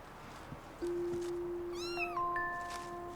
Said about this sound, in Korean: 고양이님.